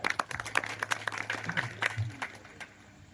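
An audience claps at an Akhand Harinam Saptah religious gathering with a Dnyaneshwari recitation. The brief, scattered rounds of applause are fairly quiet, and a voice is heard over them.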